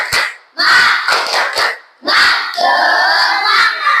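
Schoolchildren perform a tepuk semangat clapping chant in a classroom, voices shouting rhythmic syllables in bursts with short pauses, then a longer sustained chanted stretch, loud and close.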